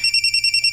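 Telephone ringing with an incoming call, a steady electronic ring tone pulsing in quick even beats, close and clear with no voices.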